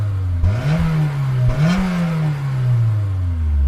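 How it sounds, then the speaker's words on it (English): A stationary Honda S2000 engine revs hard, rising in two sharp climbs to a high-pitched wail that holds and slowly eases back, loud and close, with no voices. "I'm going to rev up my Honda S2000."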